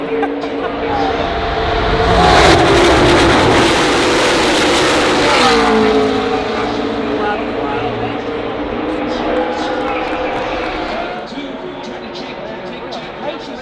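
Race cars roaring past at speed on the Daytona 500 oval, a loud engine surge that swells, peaks and fades with a Doppler drop, followed by a steady distant drone while people talk over it.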